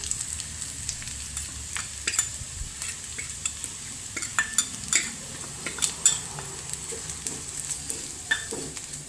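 Scraping and clinking of a spoon stirring in a hot pan, with a soft frying sizzle underneath; irregular close taps and scrapes, no talking.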